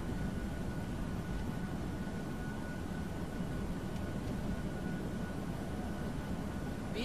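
Steady broadband engine roar of an Airbus A320 on its takeoff roll down the runway, a continuous even rumble with a faint tonal whine, loud and unbroken throughout, no voices.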